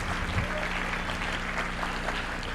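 A room of conference attendees claps steadily at a university educational leadership event, dense applause that stays fairly even, with possible faint voices mixed beneath it.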